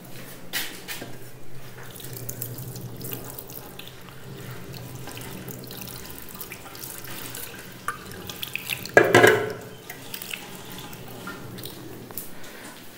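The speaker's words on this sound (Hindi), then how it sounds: "इसके बाद जो है ना वो आप अपने हाथ धो लें" Tap water runs steadily as hands are washed during a Shia ghusal-e-mayyat demonstration, a continuous close splashing stream with a brief louder burst of splashing partway through.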